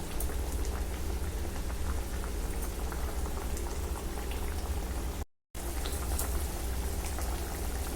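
Rohu fish curry with kasundi boils steadily in a pot, a dense, close bubbling and spattering that runs without pause apart from a brief gap, with no talking.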